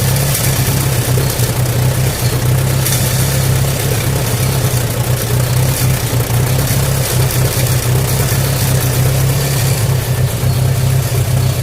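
A 1938 Allis-Chalmers B tractor engine runs steadily nearby, a loud, continuous low chugging rumble with no break.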